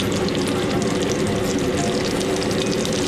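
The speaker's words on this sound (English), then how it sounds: "we're gonna put the fish crust side down into, you can hear it sizzling" Fish fillets fry crust side down in a hot pan in a restaurant kitchen, giving a continuous dense sizzle and crackle close up with no talking.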